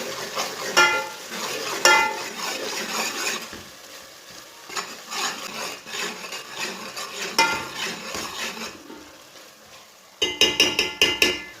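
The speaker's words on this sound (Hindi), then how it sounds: "एक चमचा अदरक का पेस्ट डाल लेंगे। इसे भी 1 मिनट तक पका लेंगे।" Ginger paste fries in a pan for a mutton curry, with a gentle sizzle broken by repeated spoon scrapes and metallic clinks against the pan, ending in a quick run of rapid taps.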